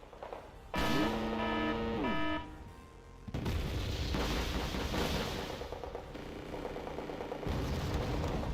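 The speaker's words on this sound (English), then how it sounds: "My artillery is firing at those." Artillery fire in the wargame WARNO: a loud burst of booming shots, then a sustained roar of distant rumbling blasts and crackling fire that runs on for several seconds, with no talking.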